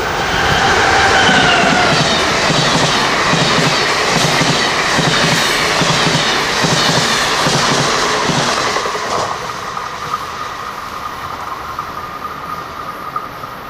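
Northeast Regional passenger train rushing past close by at Southport, a loud roar with rhythmic wheel clatter that gradually fades as it moves away.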